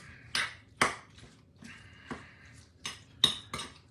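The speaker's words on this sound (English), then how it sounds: "Just stir and fold, stir and fold," A utensil stirs and folds meatloaf mixture in a small bowl, giving sharp clinks and scrapes against the bowl in irregular strokes, about seven distinct hits with quiet gaps between.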